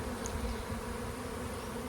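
Honey bees buzz steadily and close by during a hive inspection, a continuous low drone with no talk.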